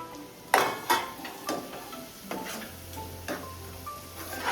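Cut mango pieces dropped into a simmering fish curry (chapala pulusu) in a pan, giving a few soft thumps and stirring scrapes over a low, steady sizzle, close and moderately quiet.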